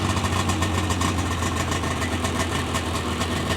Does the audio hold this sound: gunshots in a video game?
no